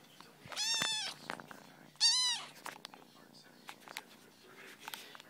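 A tiny kitten gives two clear, close, high-pitched meows about a second apart, with soft rustling and faint handling noises between and after them.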